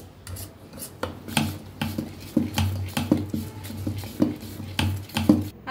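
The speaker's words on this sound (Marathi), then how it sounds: "चांगलं मिक्स करून घेऊया" Appe batter mixed with coriander and salt in a bowl, stirred with a spoon, giving repeated scraping and tapping strokes in an uneven rhythm, close and moderately loud with no talking.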